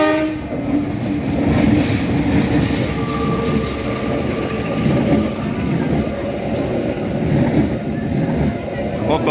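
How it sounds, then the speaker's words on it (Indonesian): A full stainless steel Bogowonto passenger train passes the Geser level crossing near Yogyakarta station in a loud, continuous rumble with rail clatter and horn-like tones, while someone talks over it. "Kereta api Bogowonto, teman-teman."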